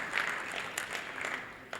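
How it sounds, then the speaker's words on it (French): Applause from a crowd at a March 8 International Women's Day celebration in Thiès, Senegal, a steady patter of clapping hands at moderate volume, continuing throughout with a few sharper claps standing out. "Et c'est l'occasion de féliciter la présidente, que je vous demande d'applaudir, donc Mme Diaynaba,"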